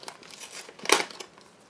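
Packaging around a SanDisk SSD Plus solid-state drive is torn open in one short, sharp crinkling rip, set against a quiet room with faint rustling before and after.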